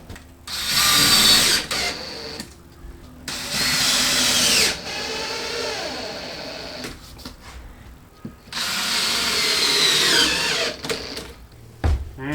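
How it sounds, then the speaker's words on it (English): A power drill drives screws into ceiling sheets during a salvaged mobile home rebuild, sounding in loud, sustained whirring bursts of a second or more, separated by short pauses and ratcheting clicks, with no talk. "just assume that we're screwing everything in"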